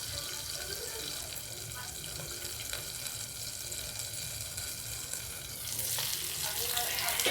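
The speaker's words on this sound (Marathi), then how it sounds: "थोडंसं मी मैदा भुरभुरणार आणि ह्याला पण तळून घेणार" Pomfret fish, coated in garlic and coriander and dusted with flour, frying in a pan of oil, giving a steady, dense sizzle that runs through the whole clip and swells a little louder near the end.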